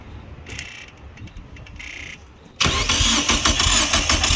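A Mitsubishi Lancer with a 4G93 turbo engine and no spark, fed by a high-pitched fuel-pump whine in short bursts, then the starter cranks loudly and steadily without the engine catching.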